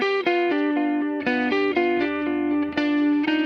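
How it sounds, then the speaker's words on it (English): Clean electric guitar picks out a melody of sustained, ringing notes in steady phrases, with a slight chorus-like shimmer; the playing is continuous and fairly loud, with no voices. "We have a clean guitar in the background playing this melody."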